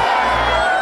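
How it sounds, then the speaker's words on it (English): A crowd of VIP guests cheers loudly and steadily at a medieval dinner tournament show, a short dense burst of massed voices. "VIPs, if you're ready, show me by raising your badges and let me hear your cheer."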